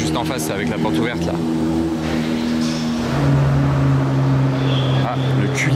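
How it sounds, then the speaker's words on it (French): A Rolls-Royce Cullinan Mansory V12 starting up across a Monaco street, heard from a distance as a deeper engine tone rises midway through the traffic hum, under ongoing talk. "le Cullinan Mansory vient de démarrer, le V12."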